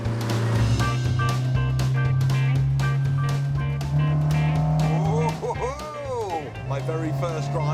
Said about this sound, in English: My very first drive of the Volvo 122 Amazon.